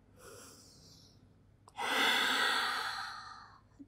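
Heavy breathing while resting between advanced pilates exercises at home: a soft breathy exhale, a brief pause, then a long loud sighing breath out, close and alone with no talk.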